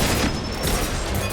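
A heavy weapon fires in Mass Effect 2, a loud, dense burst of blasts and crashing impacts that runs through the whole short moment with no talk over it.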